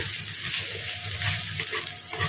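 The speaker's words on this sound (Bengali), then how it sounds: "মশলাটা মোটামুটি ভাজা হয়ে গেছে" A cumin and coriander spice paste fries in hot oil, a close, dense crackling sizzle that runs unbroken and fairly loud, with faint stirring and no voices.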